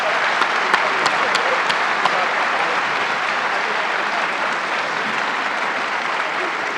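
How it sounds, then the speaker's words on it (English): An audience at a panel discussion claps in a sustained, even round of applause, dense and fairly close, with a few sharper individual claps standing out early on. "would you please join me in a round of applause?"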